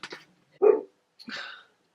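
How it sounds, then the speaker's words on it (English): A dog indoors barks in three separate short bursts, moderately close, with silence between each bark. "Really do apologise if you just all heard my dog absolutely barking his head off"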